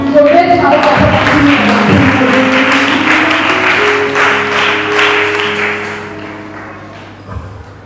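A church congregation applauds at a service in sustained, dense clapping, mixed with voices and tonal, music-like sounds, tapering off toward the end.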